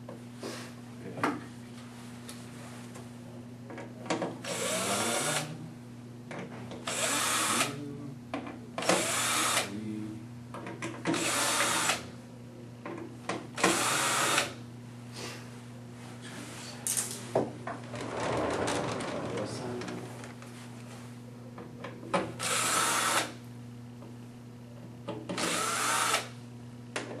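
Power drill backing out ten screws from center fans, about a dozen short whirring bursts separated by pauses over a steady low hum, close and moderately loud.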